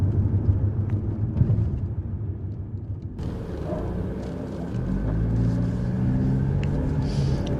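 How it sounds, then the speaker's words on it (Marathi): A car rolls over a rough, gravelly, broken stretch of the Mumbai-Goa highway, giving a steady low rumble from inside the cabin that deepens and thickens partway through, with no talking. "रस्ता ही खडबडीत आहे गाडी बंप होते सतत बंप होते"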